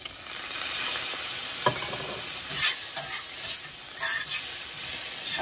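Onions sautéing in a pan with a steady sizzle and occasional stirring scrapes, close and moderately loud, with no talking.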